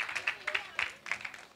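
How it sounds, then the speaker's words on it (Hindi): Audience applause for a child taking the stage at a Gujarati-Marwari kids' talent show, scattered irregular claps rising and fading in bursts, moderately quiet and somewhat distant, with no talk over it. "put your hands together for the very beautiful Honey"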